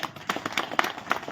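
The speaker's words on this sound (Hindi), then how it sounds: "एक बार जोरदार तालियां" An audience claps in a brief, scattered burst of applause, with individual claps standing out at a moderate distance rather than forming a dense roar.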